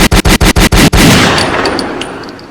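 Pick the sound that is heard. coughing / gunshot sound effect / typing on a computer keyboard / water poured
gunshot sound effect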